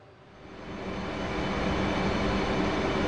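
F/A-18 Hornet jet engine approaching Al Dhafra Airbase in the DCS flight simulator: a steady, broad roaring whine that swells over the first second and then holds loud and continuous, with no talking.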